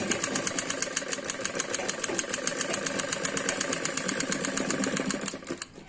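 A sewing machine stitches the front panel of a Punjabi suit, running steadily with a fast, even mechanical chatter close by for about five seconds before slowing and stopping at the end.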